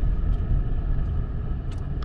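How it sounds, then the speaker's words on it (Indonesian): A sedan car creeps along and backs up on a rough, broken road in a Mecca housing complex, producing a steady, close, low engine rumble with faint higher clicks and no talking. "Kebetulan ini mobilnya mobil sedan."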